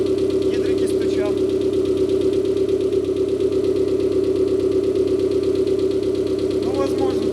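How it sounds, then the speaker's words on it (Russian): A rebuilt Mitsubishi 4G93 turbo engine idles just after repair, its hydraulic lifters knocking in a fast, steady ticking over a constant low drone, recorded close up. "Гидрики стучат."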